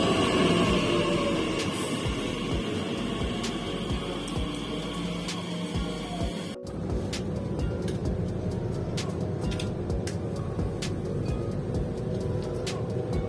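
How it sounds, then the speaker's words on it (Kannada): A train rumbles into a station in Switzerland, a continuous low rolling drone with faint clicks and clanks, fairly steady and moderately loud. "ನಮ್ದು ಟ್ರೈನ್ ಬಂತೀಗ"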